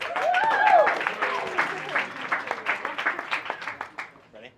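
An audience at an education design workshop claps for a presenting team while voices talk over the opening. The applause continues in uneven bursts and then fades away.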